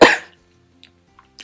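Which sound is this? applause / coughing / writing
coughing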